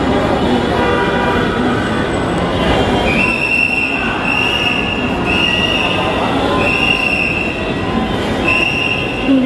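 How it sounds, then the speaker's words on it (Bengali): Dhaka metro rail train at a station, with a loud, steady rumble of wheels and carriages and a high, sustained squeal of wheels braking on the rails. "আমরা চলে এসেছি মেট্রো স্টেশনে, এখন আমরা ট্রেন থেকে নেমে যাচ্ছি"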